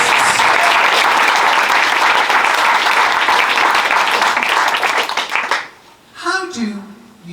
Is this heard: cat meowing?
no